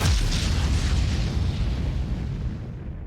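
An explosion in the video game Starbase sets off a loud, deep boom that rumbles and slowly fades over a few seconds, with nothing else heard.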